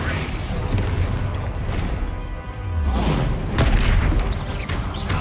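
Bombarda spell explosions in Hogwarts Legacy during a fight with trolls, deep booming blasts and crashes, loud and close, with a strong thud near the middle and game voices over the action.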